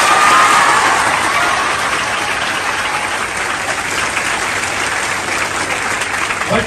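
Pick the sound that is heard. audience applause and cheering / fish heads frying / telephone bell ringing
audience applause and cheering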